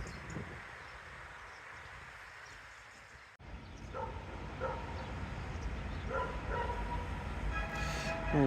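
Wild dogs bark at night in Albania, a few sharp barks from a pack starting about halfway through and repeating over a steady background hum.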